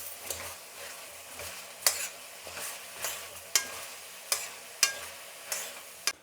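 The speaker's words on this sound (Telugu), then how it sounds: "ఇప్పుడు దీన్ని బాగా కలుపుకుందాం." Ridge gourd curry with turmeric stirred in a pan, a regular series of sharp spoon scrapes and knocks against the metal about twice a second over a soft sizzle, with no speech.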